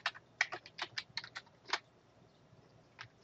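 A computer keyboard is typed on during a Linux install, a quick burst of distinct keystrokes followed by a pause and a couple more taps, close and fairly quiet, with no voices.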